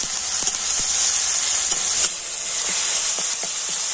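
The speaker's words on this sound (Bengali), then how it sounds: "তেলের উপরে টমেটোটা একটু আমি ভেজে নেব" Salted tomato frying in hot oil makes a loud, steady hiss with faint crackles and soft spatula taps running through it, and no voices.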